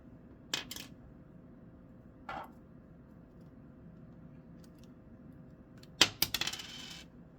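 Metal bearings popped out of a Traxxas 4-tec 2.0 RC car steering knuckle with a screwdriver, giving a few sharp, quiet clicks and taps spread apart, then a closer cluster of small rattling clinks near the end.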